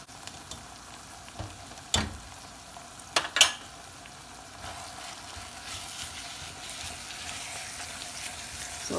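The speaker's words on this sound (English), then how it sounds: "So you want to saute this and bring out the red oil." Red curry paste with paprika sautéing in oil for khao poon, a soft continuous sizzle with a few sharp clatters of utensil or pan early on, no talking.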